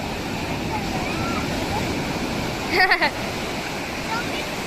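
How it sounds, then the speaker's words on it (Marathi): Surf and breaking sea waves wash steadily at Pirwadi beach, a broad continuous roar with one brief louder crash midway, while people call out over the water. "मोठी लाट आली छोटू"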